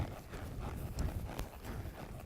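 Horse hooves drum faintly on arena ground as the horse lopes in circles to the right, a soft rolling rhythm of muffled beats under low background noise.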